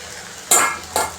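Soaked sabudana (sago) being stirred and mixed in a pan, two short scraping strokes of a spoon against the metal over a low background hum, close and fairly loud.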